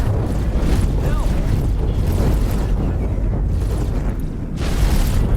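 In the space game X4: Foundations, an incoming missile strikes with a loud, sustained rumbling blast that fills the whole moment, dense and booming without a pause.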